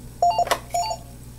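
Two short electronic beeps from the keypad buttons of a Panasonic TGP phone, close and clear, separated by a handling click.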